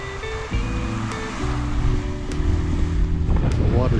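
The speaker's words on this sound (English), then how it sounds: "the water jet there, water feature." A water jet fountain splashes steadily beside a frozen lake in a winter park, a continuous close wash of falling water with some wind and a voice faintly underneath.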